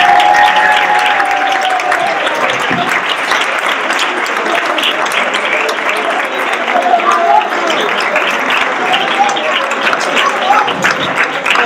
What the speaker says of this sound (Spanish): aplauso a todos los jóvenes otra vez.